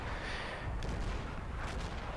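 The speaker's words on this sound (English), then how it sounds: "the second gets a nearby hit with a sizable artillery round" A sizable artillery round landing near an armored vehicle in the Combat Mission Cold War video game, heard as a faint, dull distant boom that rumbles under a wash of battlefield noise.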